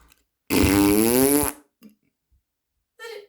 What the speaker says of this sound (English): The distinctive sound of a bottom burp.